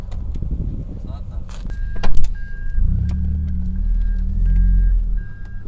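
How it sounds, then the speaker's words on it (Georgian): A car reverses slowly at close range, with a low steady engine rumble and a thin, steady electronic tone running above it. "მივწევ ახლა მანქანას უკან და ვნახოთ ასე რა გამოვა"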